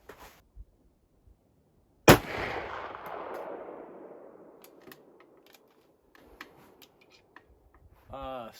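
A single loud .458 rifle shot firing a 300-grain Barnes TSX bullet cracks sharply, then rolls away in a long fading echo outdoors, with a few faint clicks and handling noises before and after.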